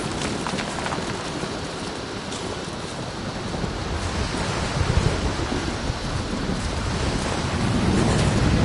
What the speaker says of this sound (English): Storm's getting closer.